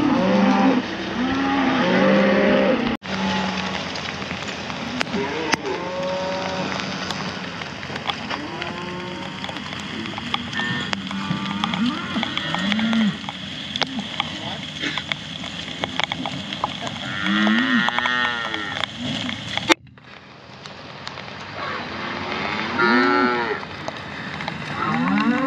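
Cattle being driven to mountain summer pasture moo repeatedly, loud and close, several animals overlapping, with rain and wet ambience behind them and a brief cut partway through.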